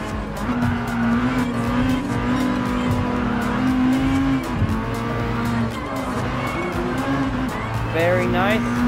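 In Gran Turismo Sport, the Amuse S2000 GT1 Turbo race car holds a steady, loud engine drone with shifting pitch and occasional tire squeal, while someone talks over it throughout.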